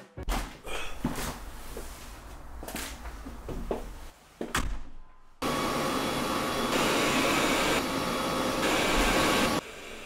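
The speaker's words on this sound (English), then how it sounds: "this is the second most powerful RoboVac on the market" Scattered bumps and clunks, then a loud steady vacuum roar from a Roborock S7 MaxV Ultra robot vacuum starts up midway and keeps running close by.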